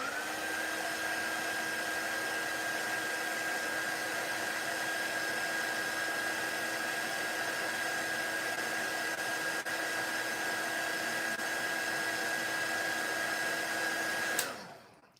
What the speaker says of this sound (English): I'm just going to dry it really quickly.